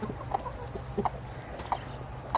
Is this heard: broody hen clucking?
yes